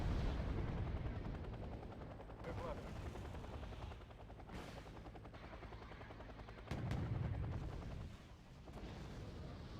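A helicopter gunship attacks in the video game Wargame Airland Battle, with rapid machine-gun bursts and booming fire over a rotor drone that rises and falls, loud and continuous throughout.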